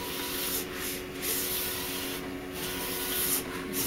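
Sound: HP DesignJet 500ps printer laying down ink

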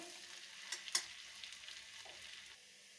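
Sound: finely chopped garlic frying lightly in pan

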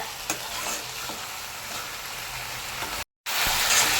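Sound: mutton frying in oil

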